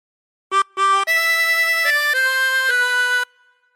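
Clean, sustained reed tones from a chromatic harmonica play a short phrase of the Star Spangled Banner: two quick opening notes, then longer held notes stepping through the melody, close and loud with no talking.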